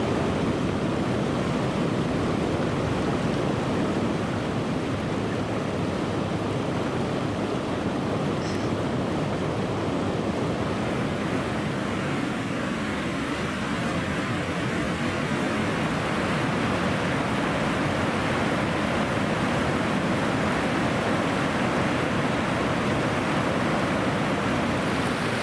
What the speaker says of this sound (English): this is Kanawha Falls at the end of February